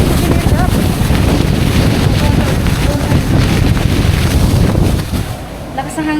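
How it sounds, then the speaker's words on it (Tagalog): Strong wind blasts the microphone at Ngong Ping village, Hong Kong, during stormy weather, a loud continuous roaring rush that eases slightly near the end, with a voice partly under it. "Lakas ng hangin guys."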